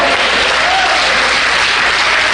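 Dense, steady applause from a church congregation at a Holy Week service, filling the room loudly and evenly with no voices over it.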